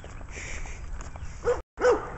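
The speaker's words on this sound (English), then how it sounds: "Dogs are barking at me." A dog barks a couple of times at a distance, short sharp yelps near the end following a quieter stretch of low background noise.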